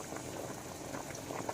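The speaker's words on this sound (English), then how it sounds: "this has come up to a boil" A pot of Mexican-style whole beans boils at a gentle, continuous bubble that stays quiet and even, with no voices over it.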